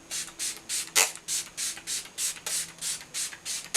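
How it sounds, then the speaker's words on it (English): Smashbox Photo Finish So Chill Coconut Primer Water sprayed over the face: a quick run of about a dozen short, even mist pumps in a steady rhythm, close and crisp, with no talking. "I'm just going to spray this all over."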